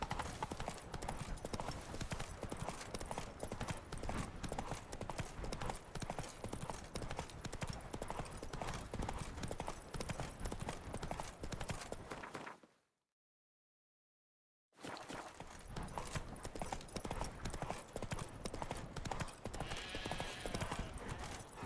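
Horse hooves clip-clop steadily as Roach is ridden in The Witcher 3, a continuous galloping rhythm at close range, broken by a gap of about two seconds of silence before the hoofbeats resume. A voice may speak faintly underneath.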